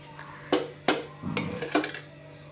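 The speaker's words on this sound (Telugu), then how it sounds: "పైనుండి కొంచెం ఆయిల్ వేసుకొని మంచి కలర్ వచ్చే వరకు కాల్చుకోవాలి" Dosa batter cooking on a hot pan with a little oil, giving a soft steady sizzle punctuated by a few sharp metallic scrapes and clinks of a spatula.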